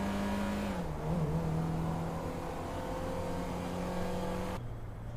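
A car in GTA 5 drives through city traffic, its engine humming steadily with a shift in pitch early on and a drop near the end, with no talking.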